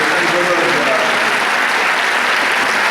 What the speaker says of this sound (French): qui vont venir sur scène sous vos applaudissements